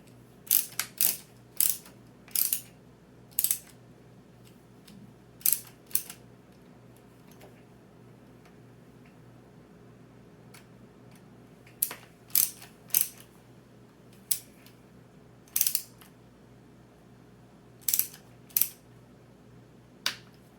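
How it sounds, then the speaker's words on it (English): Ratchet clicking in short bursts while shock tower mount bolts are snugged down on a Treal shock tower and Panhard bar mount install, quick sharp ratcheting spurts separated by quiet pauses, close up with no talking. "now we can snug everything down. Snug it down, but don't over tighten it."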